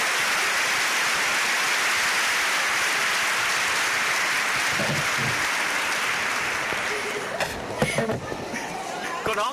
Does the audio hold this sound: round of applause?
yes